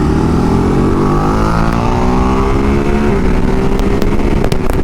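A Ducati Hypermotard and a KTM Super Duke accelerate hard side by side in a short road drag, a loud, steady engine roar rising in pitch through the gears with wind rush, heard close up.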